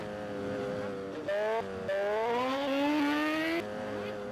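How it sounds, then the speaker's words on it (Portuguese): A Yamaha XJ6 motorcycle engine in the video game GTA San Andreas revs steadily, with its pitch dropping and climbing in abrupt steps as it shifts gears, a continuous close whine at moderate loudness. "Olha a reduzida dessa moto"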